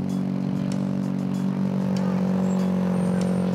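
The 08 stock car drives slowly around the pits, its engine a steady, loud, low idle-like rumble that holds level throughout, with faint clatter on top.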